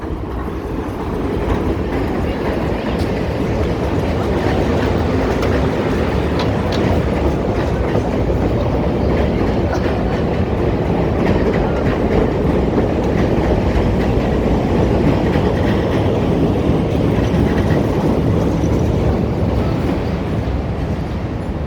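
An elevated train rumbles and clatters steadily overhead on Wabash Avenue at Washington Street in downtown Chicago, a loud continuous roar of wheels on rails with no talking.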